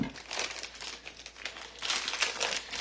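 A plastic package of frozen ham is pulled open by hand without scissors, giving a close run of crinkling and crackling bursts.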